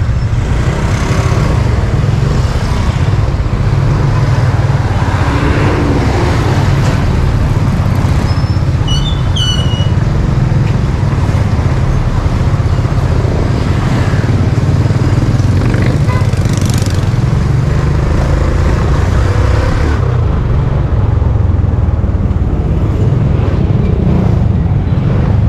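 Steady road traffic with passing cars and motorcycles, a continuous loud engine rumble throughout with no break, heard close by.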